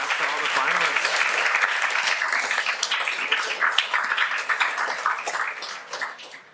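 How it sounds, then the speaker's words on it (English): A crowd at a speedcubing all-stars final applauds the finalists with full, steady clapping that thins into scattered claps toward the end, while a voice talks over part of it. "Let's give all of our finalists one last round of applause."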